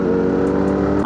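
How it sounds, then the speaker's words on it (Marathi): A Kawasaki Z900 with its dB killer removed growls on a ghat road, its loud exhaust giving a brief, strong, deep throaty drone close by. "त्यात आता गाडीचा डेबी किलर काढले, त्यामुळे आता पूर्ण घाटामध्ये फक्त नुसता आवाजाचा दणका विषय."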